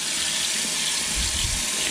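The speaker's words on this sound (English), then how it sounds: "So this is just a regular flow of water." Low-pressure tap water flows steadily over a K&N air filter being rinsed of its pink oil, a constant close splashing hiss with a brief lower gush midway.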